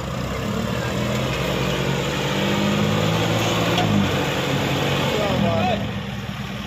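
A John Deere 5310 tractor engine labours under heavy load with a steady, loud diesel drone, continuous for the whole stretch, with some voices audible beneath it.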